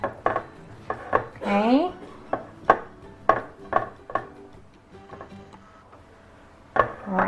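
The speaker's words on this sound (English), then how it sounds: "And just keep pressing it into your pan." Partly defrosted puff pastry is pressed into a metal tart pan for Portuguese custard tarts. Sharp irregular knocks and clinks come close by with quiet gaps between them, and one short spoken word is heard.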